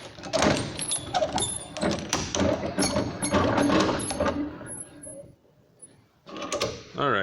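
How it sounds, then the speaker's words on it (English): A wooden block for hand-cut dovetails is clamped in a bench vise, with a run of close ratcheting, creaking and knocking mechanical sounds as the vise is wound tight, then a brief pause and a few more clunks. "let me hold this in my vise"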